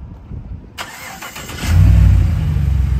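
A 2015 Chevrolet Silverado 1500 LT, lifted, starts by remote: a brief crank catches and settles into a loud, steady low idle close by, with no talk.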